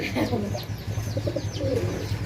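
Pigeon cooing from a large-headed pigeon among mixed pigeon breeds, soft repeated low coos with faint chirps over steady background hum, a few calls close by.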